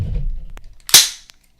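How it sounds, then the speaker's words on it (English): An AR-15 rifle's charging handle is racked with a sharp metallic snap after a low rustle of handling, loud and close, with a faint click afterward. "hold the trigger to the rear and rack your rifle"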